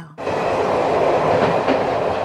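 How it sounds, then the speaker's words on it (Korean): Train rumbling along rails as it approaches Chujeon station, a loud, steady rolling roar heard close from inside the carriage with no talk. "우리 열차 잠시 후 추전역에 도착합니다"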